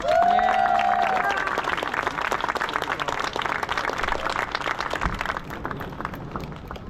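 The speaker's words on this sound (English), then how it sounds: "give your parents a big round of applause, please" Players applaud their parents at a senior night, a crowd of clapping with a bit of cheering and a voice at the start, staying fairly loud throughout.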